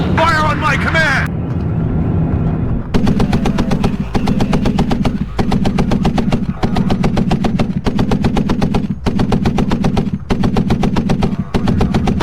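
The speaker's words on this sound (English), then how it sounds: "Fire on my command!" Sustained machine-gun fire rattles in long, rapid bursts in the military strategy game Warno, loud and relentless with brief pauses between strings of shots, after a short opening stretch where a voice speaks.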